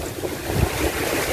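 Wind and surf at Tanjung Pakis beach, picked up by an MJX Bugs 20 EIS drone flying above: a steady loud rush of wind buffeting the microphone over low, rolling wave noise, with no voices.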